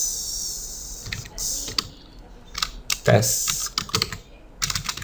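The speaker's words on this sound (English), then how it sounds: "Let's type exactly the same information." Keys clatter on a computer keyboard in bursts of quick clicks with pauses between, close and fairly quiet, while a person talks over the typing.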